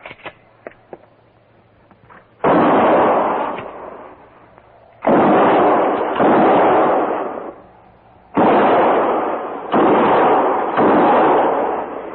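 Gunfire in a Western radio drama, shots fired between the trees: after a few faint pops, four long, loud bursts of rapid shooting follow one another, each rolling away with a decaying echo.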